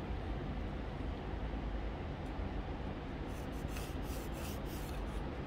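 A finger running along a 2x4 board while scribing a line in wall framing, a continuous, close, coarse rubbing scrape with no pauses.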